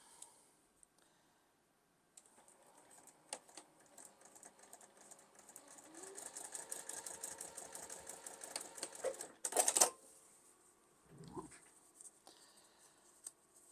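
A sewing machine stitches a sawtooth star quilt block in foundation paper piecing, running in a quiet, steady mechanical chatter that speeds up briefly, then stops with a sharp click and a soft rustle, heard close with no speech.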